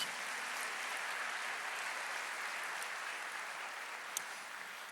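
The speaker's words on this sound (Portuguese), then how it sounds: "Dá uma salva de palmas aí para Jesus." A church congregation applauds for Jesus during a sermon, a soft, even wash of clapping heard from a distance, steady and faint throughout.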